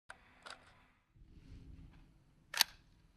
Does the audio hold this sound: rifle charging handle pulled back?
yes